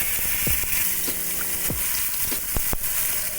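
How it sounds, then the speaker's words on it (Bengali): Fish fat sizzles steadily in oil left over from frying fish, a close, continuous crackling hiss broken by a few sharp pops and spatters. "এবারে আমি মাছ ভাজার তেলটাতে মাছের তেলগুলো দিয়ে দিলাম।"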